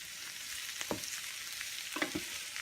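Pad thai noodles stir-fried in a pan give a steady soft sizzle, broken by a few brief scraping stirs and tosses.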